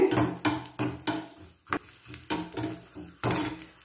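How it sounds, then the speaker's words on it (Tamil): Vadagam frying in hot oil while being stirred in a pan, with a steady sizzle broken by repeated scraping and clinking strokes of a spoon, close and fairly loud. "வடகம் நல்லா பொரியட்டும்."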